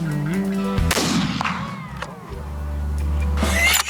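A rifle fires once at an antelope during an open-country hunt, a sharp loud crack that booms and rolls away into the distance, with a vehicle engine idling underneath.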